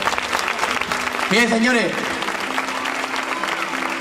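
Audience at a kickboxing bout applauding two fighters, a dense sustained clapping throughout, while someone speaks over it into an amplified microphone.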